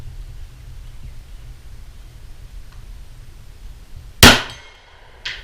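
A single sharp gunshot on a range rings out against a steel target at 50 yards with a bright metallic clang and a brief ringing decay, followed by a fainter second impact about a second later.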